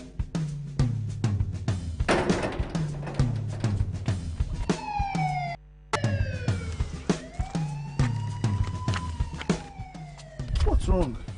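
A police siren wails in a dramatic scene, its rising and falling tones sweeping loudly over a rhythmic backing beat, briefly cutting out before resuming.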